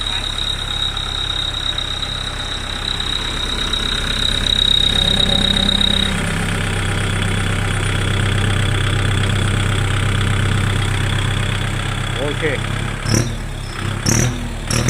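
A four-cylinder engine idling through a newly fitted exhaust pipe in a modification shop, a steady close rumble with a faint whine early on, ending in a few sharp knocks as people talk.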